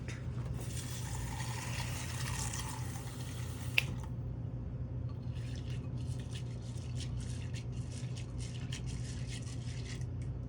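Lentils are being rinsed in water at a kitchen countertop: a run of close splashing and pouring, a brief clunk, then a stretch of scattered drips and small wet swishes, with no speech.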